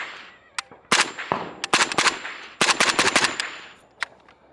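A 5.56 rifle fitted with a Huxwrx Flow Ti suppressor fires a rapid string of sharp, cracking shots in close bursts, loud and near, with brief pauses between groups.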